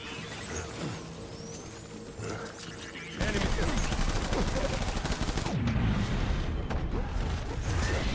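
Rapid bursts of shotgun gunfire from the video game Death Stranding, a quieter stretch of shots giving way to a dense, loud barrage with no talking.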